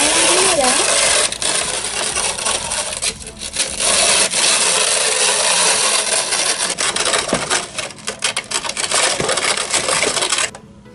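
A McDonald's Happy Meal toy hamburger maker grinds Rice Krispies with a loud, continuous scraping and rasping churn, close up, with brief pauses and clicks as the plastic crank turns.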